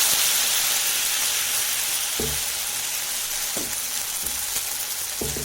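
Jowar batter sizzles steadily on a hot oiled pan, a close, continuous frying hiss with a few soft taps from the spoon spreading the batter, and no speech.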